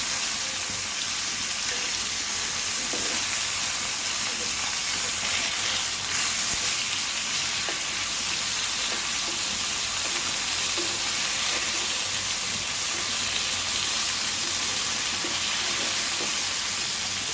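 Fish pieces fry in hot oil in a home kitchen, a continuous bright sizzle that stays even and close for the whole stretch, with faint crackles and no voices.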